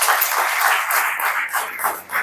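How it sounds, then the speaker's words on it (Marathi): An audience at a Kathak dance event applauds its dance guru, with dense, steady clapping from many hands that dips briefly near the end and then rises again. "खरंच आपल्या या गुरुसाठी एकदा जोरदार टाळ्या वाजवा"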